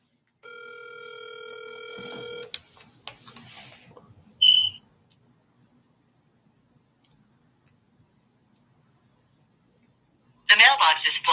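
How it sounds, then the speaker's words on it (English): A telephone call rings out on an outgoing line: a steady harmonic tone runs for about two seconds, then a short beep, a long silent stretch, and a loud burst of noise near the end. "I just called his line."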